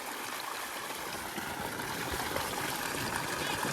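Water pumped by a motor out of a newly dug well, a steady broadband rush and splash like a stream running continuously and fairly loud, with no talk over it.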